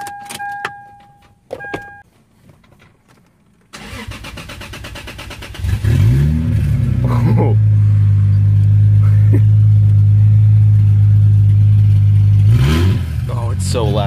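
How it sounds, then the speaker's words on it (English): A turbocharged Lexus IS300 with the wastegate off, effectively running an open header, cranks and fires up loud and close, then settles into a heavy, raspy idle. Faint clicks come first, and a voice speaks briefly. "let's start it. I've never heard it because right now the wastegate is not on, so it's pretty much got an open header."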